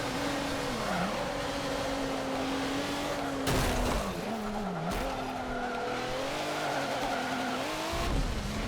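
A race car in the Forza Motorsport 7 video game roars continuously at close range, its engine pitch rising and falling through gear changes, with tires squealing and skidding through corners.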